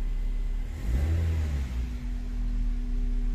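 Car engine revving up from idle, one swelling rise and fall of a mid-pitched engine note around a steady idle hum, close and loud, with no talk.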